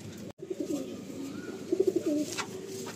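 Close, soft rolling coos from pigeons in a West Bengal loft, a short burst early and a clearer series of throaty pulses later, after a brief cut near the start.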